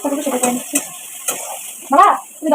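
Black cumin, dried chili and chopped onion fry in hot oil, with intermittent sizzling bursts and scraping stirs in a home kitchen, close and fairly loud.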